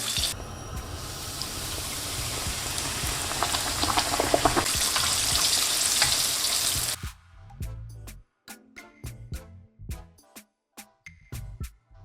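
Chicken pieces fry in hot oil for a KFC-style crispy chicken burger, a loud, dense sizzle that cuts off abruptly, then clinks and knocks of removing the pieces follow.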